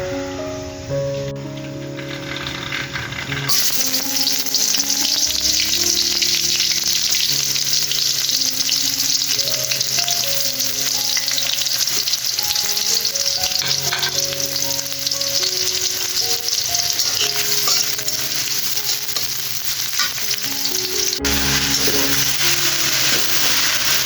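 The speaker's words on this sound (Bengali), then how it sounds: "ঢেঁড়স ভাজিটা বসিয়ে দিয়েছি, আর এই যে ঢেঁড়সের সাথে অল্প করে একটু আলু দিয়েছি।" Okra with a little potato frying in white oil in a wok, a steady loud sizzle throughout with background music tones running over it and no talking.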